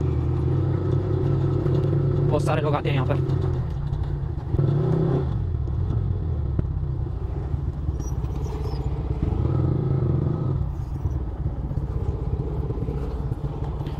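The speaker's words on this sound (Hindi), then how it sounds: "अब बस यहाँ पर अब बाइक वगैरह पार्क कर देते हैं" Several motorcycles arriving and idling at a parking spot near Bilavali Lake in Indore on a Sunday group ride, steady engine rumble throughout with a short rev or clatter near the start, and a person speaking briefly over it.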